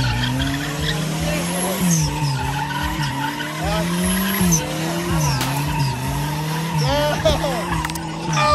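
A car skidding through donuts, its tires squealing in long wavering screeches over a revving engine, close and loud throughout, with someone talking now and then.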